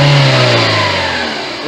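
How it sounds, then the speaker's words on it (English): A car engine revs hard as the throttle is snapped open, a loud close roar that peaks at once and then eases steadily back down over a couple of seconds. "So I'm gonna have my friend snap the throttle."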